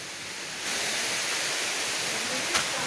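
Argundi waterfall in Khuntpani roars as a steady broadband rush of falling water, loud and close, growing slightly fuller partway through, with a brief knock near the end and no talk.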